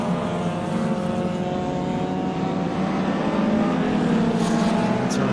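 A Ford Fiesta hatchback race car drives on track, its engine a steady, sustained buzzing drone mixed with other cars nearby, loud and continuous without any voices.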